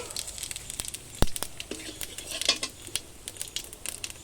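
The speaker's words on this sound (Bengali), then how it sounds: "আমি গোটা জিরে ফোড়ন দিয়ে দিচ্ছি" Whole cumin seeds tempering in hot oil for a taro-stem and lata fish curry crackle in scattered sharp pops, mixed with light utensil clinks against the pan.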